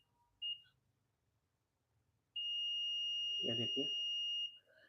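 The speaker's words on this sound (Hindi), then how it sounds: "ये बीप का साउंड आ रहा है" A multimeter set to its continuity buzzer range gives a short beep, then a long steady tone of about two seconds while a fridge compressor's overload protector is tested, with someone speaking briefly over the tone.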